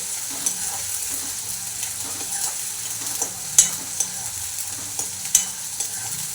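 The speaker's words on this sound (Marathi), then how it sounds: "टोमॅटो असं परतून घ्या." Tomatoes sautéing in a pan: a steady, soft sizzle with occasional stirring scrapes and light clinks scattered through, fairly close and alone with no voices.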